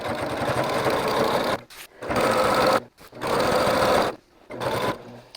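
Sewing machine quilting a batik boho throw, running in close, loud bursts of rapid stitching separated by short pauses.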